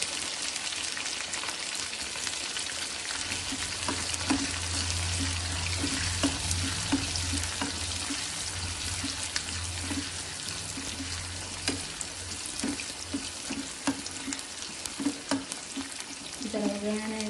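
Onion frying in hot oil for a cucumber sambar tempering, a continuous dense sizzle with repeated scraping stirs and clinks of a utensil against the pan, no speech.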